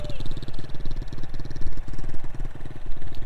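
A mini cafe racer motorcycle pulls away in first gear, its small engine putting out a loud, rapid, choppy pulsing that stays close throughout.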